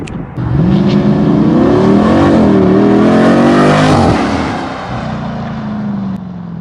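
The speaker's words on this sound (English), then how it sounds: "every sports car doesn't sound that good" A sports car engine revs hard up close, a loud rising roar that climbs and holds for several seconds before dropping back to a lower idle rumble, with no voices.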